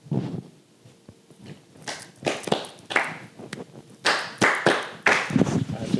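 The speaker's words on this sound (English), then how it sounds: "Clap it up." A small group claps in scattered sharp bursts that build into louder, denser rounds toward the end, close and crisp, with talking in between.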